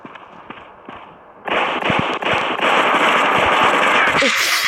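A machine gun fires in a video game, first faint, then loud sustained rapid bursts of gunfire for several seconds, with sharp cracks over a dense crackling wash.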